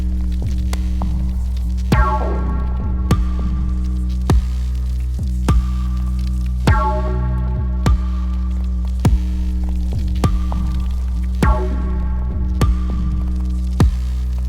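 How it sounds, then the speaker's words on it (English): A steady electronic beat of kick thumps with sharp snare hits, repeating evenly over a constant low hum. "bring back just the kick and the snare sound"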